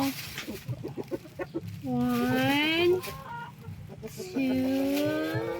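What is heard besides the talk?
chickens clucking while eggs are collected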